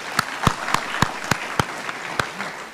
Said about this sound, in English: So let's clap hands for her properly.